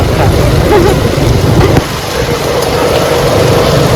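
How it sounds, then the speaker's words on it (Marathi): Heavy rain pours down outdoors, a loud, steady broadband wash with low rumbling underneath that eases slightly partway through and then continues. "असा धो धो धो पाऊस"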